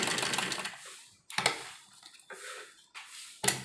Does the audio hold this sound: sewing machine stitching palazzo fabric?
yes